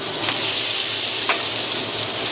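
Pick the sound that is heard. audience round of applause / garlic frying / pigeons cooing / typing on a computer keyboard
garlic frying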